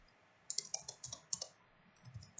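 Keystrokes on a computer keyboard during CAD modeling work, a quick burst of crisp close clicks followed by a few scattered lighter taps over quiet room noise.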